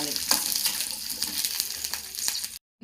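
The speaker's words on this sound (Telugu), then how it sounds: "ఒక ఎనిమిది పచ్చిమిరపకాయలు కారానికి ఇవి వేసి ఆయిల్ వేసి మనము ఫ్రై చేసుకోవాలి" Eight green chillies and garlic fry in hot oil with a steady, dense sizzle, close and loud, stirred now and then, before cutting off abruptly at the end.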